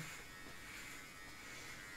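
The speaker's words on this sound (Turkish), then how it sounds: "Bu evde durmasın bu tıraş makinesi." An electric hair clipper shaves a head down to zero length, giving a faint, steady, even buzz throughout with no talking.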